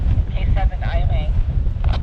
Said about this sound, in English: the wind really picked up, so we're getting the heck out of here